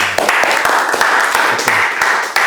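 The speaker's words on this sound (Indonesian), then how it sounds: "kita beri tepuk tangan ya" A class claps for students' website project during a university lecture, a short burst of close, loud clapping with some sharp individual claps and faint voices mixed in.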